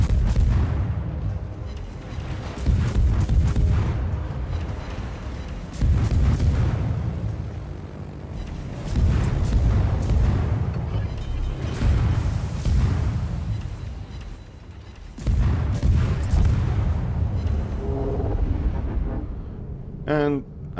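Naval guns of the Le Fantasque destroyer firing in World of Warships: repeated booming salvos and explosions every few seconds, loud and heavy, with someone talking over the battle.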